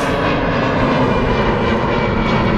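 An easyJet airliner flying past over Manchester Airport, its jet engines a loud, dense roar with a slight downward sweep at the start, steady and close.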